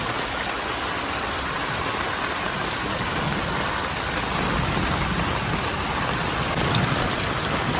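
Heavy monsoon rain in Vrindavan pours down in a dense, loud, continuous roar of drops on surfaces, steady throughout with no pauses.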